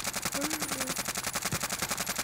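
Rapid bursts of automatic gunfire in the Cold War-era Warzone battle royale, a dense rattling stream of shots firing at the player with a brief musical tone over it, loud and continuous.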